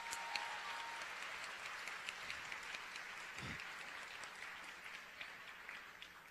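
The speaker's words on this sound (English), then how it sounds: "we just want to clap it up for D-Hot Allure." Audience at a university lecture series applauds a performing group, a steady wash of clapping from a crowd heard at a distance and fairly faint, holding evenly throughout.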